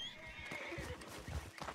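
A horse in Red Dead Redemption 2 gives a short, faint whinny with a few clip-clop hoofbeats around it.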